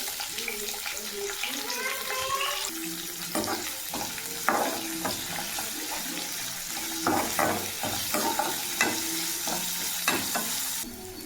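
Chopped onions drop into hot oil already holding green chillies and curry leaves, sizzling steadily up close while a utensil clinks and scrapes through repeated stirring.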